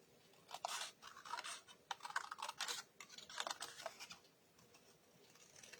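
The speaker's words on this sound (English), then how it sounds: "So we're just going to cut across by that line." Scissors snip across a sheet of paper in a papercraft card-making session, a series of quick crisp cuts in uneven bursts, close and fairly quiet, with no talking.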